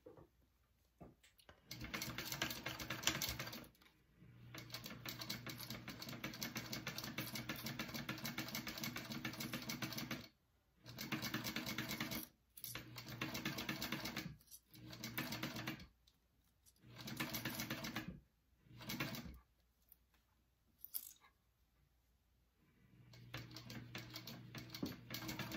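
Sewing machine basting a bag seam with a zipper foot, running in repeated bursts of steady whirring and stitching broken by short pauses, near and clear.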